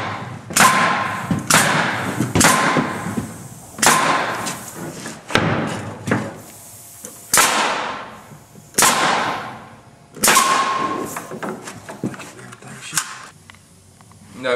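Nail gun driving fasteners through a runner on a storage building frame, sharp loud single shots about every one to two seconds, each with a short ringing decay.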